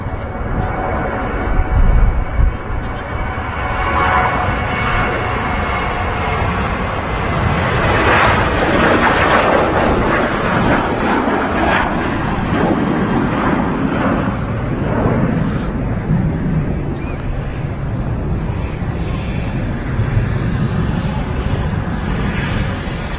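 A Corendon airliner rolls for takeoff on runway 23 right at Manchester Airport, a broad continuous jet roar that swells and stays loud and near throughout, with a voice talking over it.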